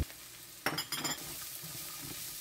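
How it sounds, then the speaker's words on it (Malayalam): Chopped potatoes and carrots tipped into a hot pan of onion, spices and garam masala for a vegetable pulao, giving a short burst of sizzling and stirring that settles into a steady low frying hiss. "ഇനി ഇതിലേക്ക് അരിഞ്ഞു വച്ചിരിക്കുന്ന ഉരുളൻകിഴങ്ങും ക്യാരറ്റും കൂടി ചേർത്ത് കൊടുക്കാം."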